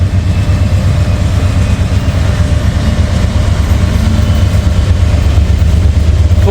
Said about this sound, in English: got a DPU coming through.